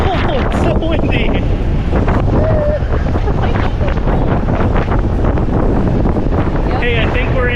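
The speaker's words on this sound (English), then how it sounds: "Oh, it's so windy!" Strong wind in Iceland buffets the microphone with loud, continuous roaring gusts that swamp the recording, while a voice speaks faintly underneath.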